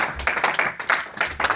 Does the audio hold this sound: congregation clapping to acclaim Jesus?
yes